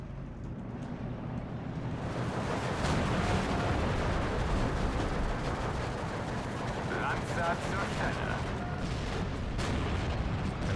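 Steady, dense 120mm mortar and artillery fire in the Steel Division 2 war game, a continuous rumble of distant booms and rattling shots, loud throughout.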